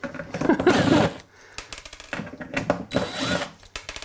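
A power drill whirs in two bursts, pulling screws from kitchen cabinet hardware up close, with a pause and some handling noise between the runs.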